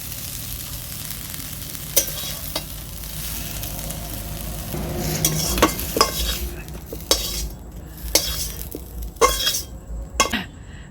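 Fried ash gourd leaves crackle and sizzle in a pan while a utensil stirs and scrapes them, with sharp clacks against the metal as they are lifted out. Nearby and fairly loud, no talking.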